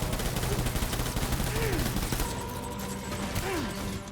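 Gunfire in the video game Death Stranding, rapid bursts of shots crackling over a rumbling battle background, dense for the first two seconds and then thinning into scattered pops with whistling tones.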